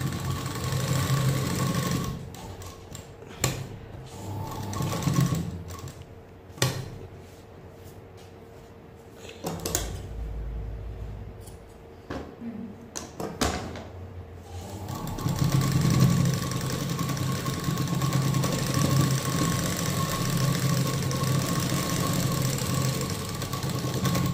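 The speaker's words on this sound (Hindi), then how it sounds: "अब मैंने वापस यहीं से चालू कर दी सिलाई" Sewing machine running a seam on a prince cut blouse, a steady mechanical whirr that pauses with a few short clicks and knocks midway, then resumes continuous stitching near and fairly loud.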